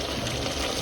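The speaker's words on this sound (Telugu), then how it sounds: "ఎంతవరకు అయితే ముక్కలు ఉంటాయో అంతవరకు వాటర్ వేసేసుకుందాం" Water pouring into a blender jar coated with masala for a spicy goat head curry, a steady close splashing pour that fills the short moment alone.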